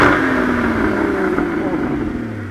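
A Porsche Cayman GT4 981 with its standard sports exhaust comes down off a single throttle stab, its engine note falling steadily as the revs drop. The sound is loud and close, and speech is mixed in underneath.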